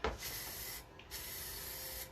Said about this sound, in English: I'm just kind of spraying the areas that I want all of the details on